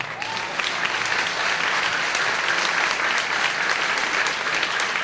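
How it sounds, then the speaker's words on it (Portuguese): Audience applause at a Seicho-No-Ie televised talk in Salvador, a steady dense wash of clapping from a crowd, even and sustained for several seconds with no voices over it. "Pode bater palmas porque é verdade, tá?"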